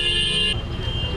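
Traffic stands jammed at the Sunday market in Kurseong, Darjeeling, with car engines idling close by and a horn or buzzer tone sounding steadily for half a second before cutting off, leaving a low rumble of vehicles.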